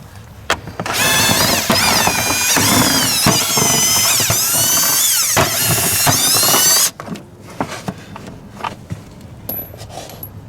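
Power drill backing screws out of the plastic body panel on a Polaris 330 Trailboss ATV, a loud steady whirring run with pitch shifts for about seven seconds, then a few faint clicks and handling noises.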